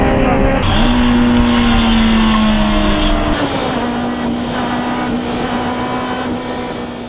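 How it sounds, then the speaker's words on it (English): Race cars in a road-course field thunder down toward a turn, engines roaring loud and continuous with a sustained high whine, steady throughout with no talk. "field thunders down to turn 4 and looking for every bit of grip they can find"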